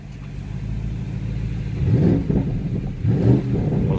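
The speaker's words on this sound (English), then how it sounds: "One of the best sounding exhausts." A 2021 Porsche Cayenne GTS Coupe's twin-turbo V8 with sport exhaust rumbles at idle, then is revved twice in short, loud bursts, each rising and falling quickly.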